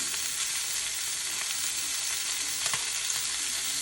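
Chicken browning in an 8-quart dual crisp pot, a steady close sizzle of frying meat with faint stirring scrapes, continuous and fairly loud, no voices.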